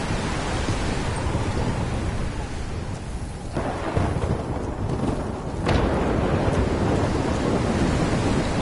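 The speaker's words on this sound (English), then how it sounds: "Waves hitting now." Storm-driven ocean waves crash and surge in a video game, a loud continuous roar of surf with swelling surges around the middle and a heavier, sustained wash toward the end.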